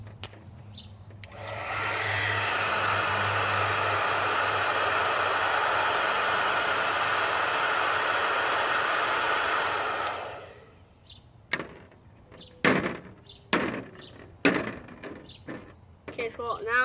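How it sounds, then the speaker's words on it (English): A blow dryer blasts steadily on a fidget spinner as a loud, even whoosh for about nine seconds, then cuts off, leaving a few sharp clacks and handling knocks. "So I'm gonna try with the blow dryer now."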